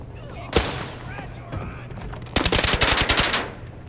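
Gunfire in the mobile shooter Arena Breakout: a single sharp shot, a faint pop, then a rapid close burst of about a dozen automatic rounds in quick rhythm, over faint background voice.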